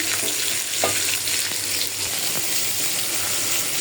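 Fish fries in a pan with a dense, continuous close sizzle and a few faint clinks of stirring, loud and steady throughout without speech.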